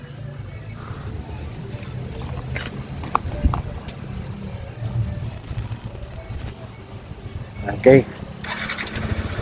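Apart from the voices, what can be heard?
Yamaha NMAX scooter engine running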